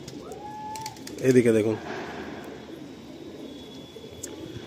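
Pigeons coo in a loft of Madrasi pigeons, a brief burst of close, throaty cooing in the middle over steady low background noise, with someone speaking briefly nearby.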